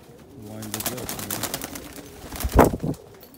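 Pigeons in a loft coo softly and rustle close by, with a brief louder flutter or scrape partway through, and a voice murmurs faintly underneath.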